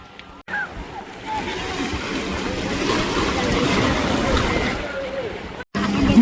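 Boats race on the open sea off Palali, including a fishing boat, with a continuous rushing wash of water and engine noise that is loud and sustained, while voices talk over it.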